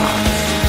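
Saw cutting through a Twix chocolate bar, a steady grinding, rasping mechanical drone lasting under a second with a couple of low bumps, loud and close, no voices.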